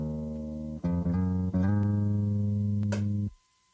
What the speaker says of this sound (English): Very simple guitar part. I played that on my guitar just directly in.